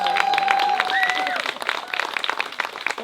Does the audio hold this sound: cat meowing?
no